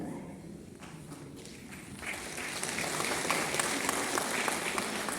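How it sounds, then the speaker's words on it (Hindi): An audience at a Guwahati program applauds, starting sparse and faint, then swelling into steady, fuller clapping that continues to the end. "आप यहाँ पे ताली मत बजाइए"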